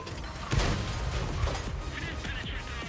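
A tank cannon fires in the World of Tanks console game, one heavy boom with a rumbling tail, followed by mechanical clanks and quieter game noise.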